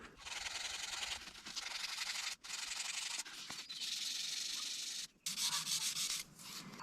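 Abrasive rubbing over an epoxy repair on a big excavator's hydraulic cylinder rod, a loud continuous hissing scrape in long strokes with a few short pauses between passes.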